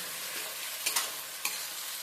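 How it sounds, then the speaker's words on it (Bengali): Onion frying with ginger garlic paste in a pan gives a soft, steady sizzle, broken by a few brief stirring scrapes, with no talking. "আদা রসুনের পেস্ট দিয়ে আমি একসাথে পেঁয়াজের সাথে ভেজে নেব"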